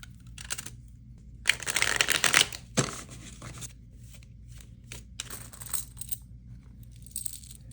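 Playing cards and plastic bingo chips being handled on a table: a dense burst of shuffling and clicking chips, then a sharp clatter, followed by scattered lighter taps and flicks, all fairly close with no voices.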